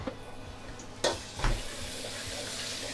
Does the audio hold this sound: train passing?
no